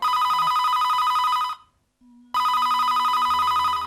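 A telephone ringtone trills loudly and steadily in two close bursts separated by a brief pause, with nobody talking over it.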